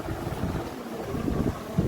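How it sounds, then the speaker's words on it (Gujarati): An electric fan blows air right at the microphone, making a steady, rough whooshing rush that runs unbroken without any talk. "પંખાની હવા મસ્ત હવા આવે"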